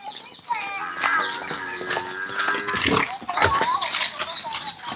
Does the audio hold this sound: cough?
no